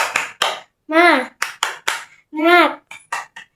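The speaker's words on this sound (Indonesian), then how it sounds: "Tepuk semangat." Primary school children doing a rhythmic spirit clap in a classroom: short bursts of clapping alternating with chanted voices in a quick patterned rhythm.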